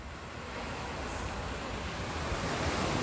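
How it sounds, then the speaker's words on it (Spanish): Ocean surf at the shore in Aguada, Puerto Rico, makes a continuous broad roar of breaking waves with some wind rush, steady and fairly loud for about three seconds with no voices. "Escuchen el ruido, estamos a la orilla del mar."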